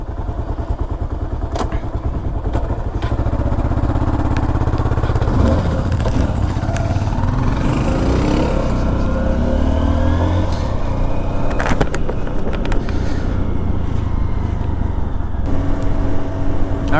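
A Honda XR150L motorcycle engine runs steadily and loud up close on an outdoor ride near Whitehaven, Pennsylvania, with a continuous low drone, occasional clattering bumps and slight rises in revs throughout.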